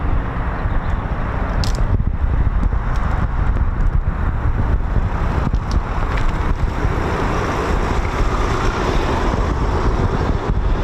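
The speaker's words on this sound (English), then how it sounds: "Bit windy, Ted, isn't it?" Strong wind buffets the microphone with a constant loud roar and rumble at RAF Coningsby, gusting throughout without any voices.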